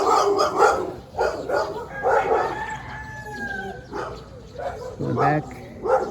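A leashed dog barks in a residential area of Naga, Cebu, Philippines, its sharp repeated barks mixed with rooster calls and a person talking close by.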